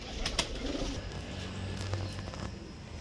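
Soft pigeon coos from birds outside an aviary net in a noisy outdoor setting, with a few sharp clicks and faint wing flutters nearby.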